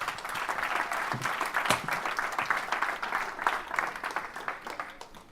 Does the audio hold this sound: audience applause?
yes